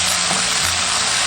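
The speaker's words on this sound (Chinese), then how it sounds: "热锅倒冷油，油热过后下入牛肉，快速滑散。" Beef slices hitting hot oil in a wok, giving a loud, steady, close sizzle with no pauses across the short stretch.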